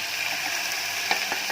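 Sausage stir-fries with sautéed onion and corn in a pan, a constant close sizzle broken by a few scraping stirs, with no talk.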